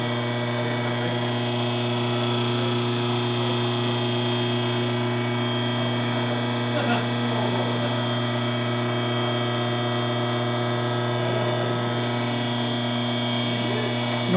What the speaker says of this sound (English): you want to listen to the pump too